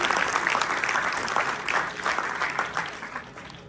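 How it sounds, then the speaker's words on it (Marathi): An audience at a Mumbai University event bursts into hearty applause, many hands clapping in a dense, lively patter with slight swells, heard close and continuous for a few seconds. "हिच्यासाठी एकदा जोरदार टाळ्या करूया आपण"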